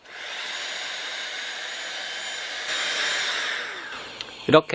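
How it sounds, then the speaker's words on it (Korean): An LG CordZero cordless stick vacuum whirs steadily while cleaning lint and dust from the dual filter of an LG Tromm dryer. The motor hum is loud and close, rises slightly partway through, then cuts off with a few handling clunks. "이 먼지 같은 경우에는 코드 제로 청소기로 이렇게"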